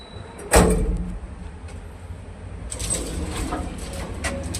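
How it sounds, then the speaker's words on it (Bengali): A building's lift with a sliding door gives one sharp thud as the door shuts early on, followed by a faint hum and light rattles, with a few soft bird-like coos in the background. "এটা ওদের বিল্ডিংয়ের লিফট।"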